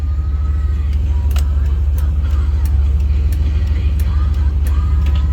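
A 1990 Chevy K1500 engine idles steadily, a loud low rumble with an even, unchanging pitch, while faint clicks and a brief voice sit on top now and then.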